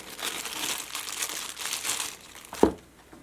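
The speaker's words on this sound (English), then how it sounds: "It has a little plastic bag around it." Close, soft crinkling of a small plastic bag around a Benchmade Osbourne knife as it is handled, with a sharper crackle near the end before it goes quiet.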